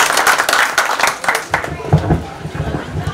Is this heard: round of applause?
yes